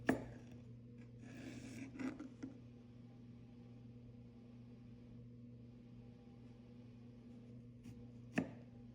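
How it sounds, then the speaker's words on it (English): A Cutco trimmer knife slices through an orange in a quiet kitchen, giving a few faint soft cutting scrapes and taps over a steady low hum, with no voices. "the trimmer slides right through the orange, super easy"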